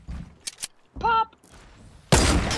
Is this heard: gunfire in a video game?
yes